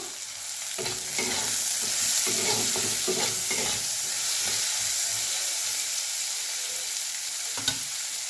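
Tomatoes, onion and green chilies sizzle in a hot oiled pan with tempered spices, salt and turmeric, a steady loud frying hiss broken by scraping stirs of a spoon against the pan, with no talking.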